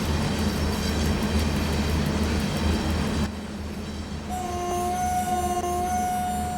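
A 3,000-ton train in SimRail gives a loud, continuous rumble, then drops to a quieter drone as a sustained horn tone sounds near the end.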